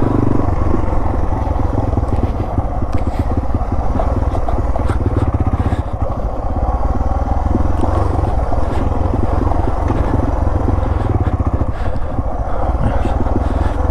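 A Yamaha TW200 motorcycle rides a lap of an off-road trail at Wildomar OHV Park. Its engine drones steadily and loudly from close by, with no break for the whole ride.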